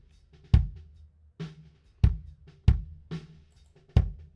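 A kick drum with corrective equalization applied plays about seven punchy, close hits in a loose rhythm, each a tight low thump with a short tail and nothing else around it.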